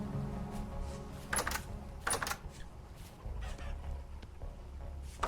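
Chickens clucking in the survival game Vintage Story, short irregular clucks and squawks rising over a steady low ambient hum, with quieter clicks scattered between them.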